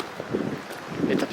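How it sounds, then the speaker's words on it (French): Light outdoor wind rumbles and buffets the microphone at a sunny zoo in Japan, a steady low gusting wash with faint rustle and no clear voices. "il y a un petit peu de vent"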